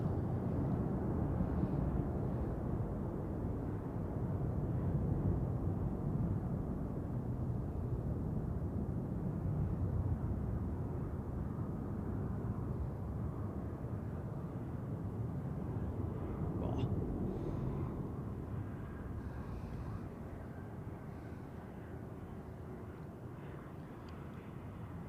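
Airbus A330 jet taking off at Zurich Airport, a loud, sustained broadband engine roar heard from a distance that holds steady and then eases slightly toward the end, with no talking.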